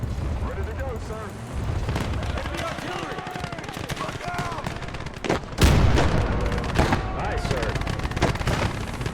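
Artillery fire and gunfire in a war video game: scattered shots and a louder blast midway, with rumbling explosions through the rest, while a voice speaks briefly over the battle.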